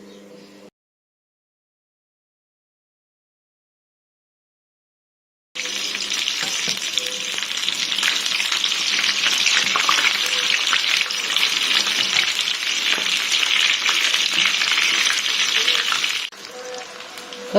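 Flour-coated cauliflower frying in hot oil in a pan, a steady loud bubbling sizzle that starts abruptly after a silent gap and runs continuously for about ten seconds.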